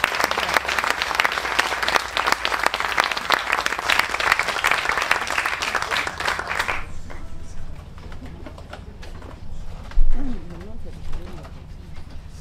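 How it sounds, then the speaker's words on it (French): An audience at a singing contest applauds a contestant: dense, loud clapping for several seconds that stops abruptly, leaving quieter room noise with a few soft sounds. "Bonne main d'applaudissement."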